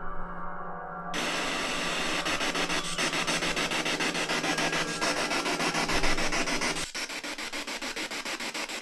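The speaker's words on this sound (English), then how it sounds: "we're going to resume the spirit box" A spirit box radio sweeps rapidly through stations, a harsh pulsing hiss of chopped static fragments, loud and continuous for several seconds before abruptly dropping to a quieter hum.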